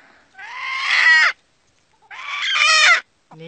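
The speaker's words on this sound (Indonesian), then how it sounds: "Ayam hutan. Ayam hutan. Ayam hutan" Two loud, drawn-out junglefowl crows ring out clearly in quiet surroundings, a pause between them and the start of another at the end.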